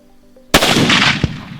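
A rifle shot fired while hunting mountain reedbuck in challenging terrain, one loud sharp crack followed by a rolling echo and a second thump of impact or report, heard alone outdoors.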